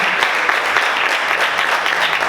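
Loud, sustained applause fills a church as the congregation claps together, a dense continuous patter with no break or fade.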